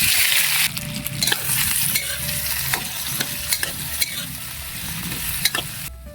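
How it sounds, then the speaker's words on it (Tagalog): Carrots and potatoes fry in a pan with a dense, continuous sizzle and occasional clacks from stirring, loud and close throughout. "Pirituin natin yung carrots at patatas."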